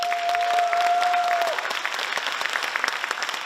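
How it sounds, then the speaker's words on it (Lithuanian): Spectators at the NABBA Lithuanian/Latvian Open 2020 bodybuilding contest, men's newcomers category, clap steadily for several seconds as one crowd, with a sustained whistle-like tone over the first half. "3, 4, plojimai."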